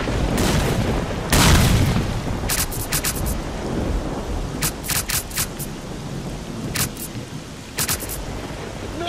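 Gunfire rings out in the S.T.A.L.K.E.R. Clear Sky firefight as a shot tears through a tower: one heavy boom early on, then several clusters of sharp, rapid cracks.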